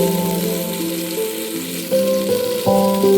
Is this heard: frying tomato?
yes